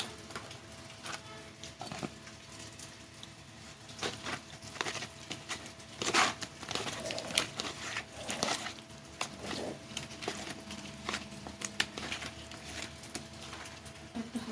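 Pabda fish being mixed by hand in a bowl with salt and turmeric powder: close, soft wet squelches and irregular pats and taps continue throughout, with no talking.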